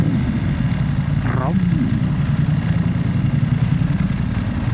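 An F900R motorcycle with a loud exhaust idles loud and close in a city centre, a steady low growl with rough exhaust texture throughout, a brief rising whine cutting through near the start.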